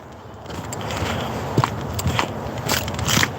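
Footsteps crunch over hard, frozen-feeling ground on an outdoor morning walk. The steady crackling treads are heard up close over a continuous rustle and wind.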